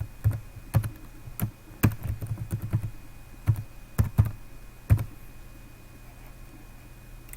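Keys on a computer keyboard are pressed to enter a password, a close, sparse series of clicks in uneven bursts with a short rapid run, then quiet room hum.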